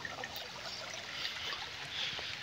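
A clear mountain stream along a village path flows with a steady, continuous rushing and trickling wash, moderately close and without voices.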